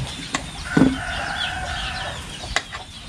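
Chickens clucking near a rural Thai home while a rooster crows in a drawn-out call, with a few sharp clucks before and after; fairly close, no talking.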